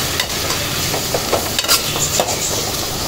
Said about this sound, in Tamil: சேர்த்து நல்லா இந்த தக்காளியெல்லாம் நல்லா வதங்கி மசிஞ்சு வர வரைக்கும் வதங்கணும்.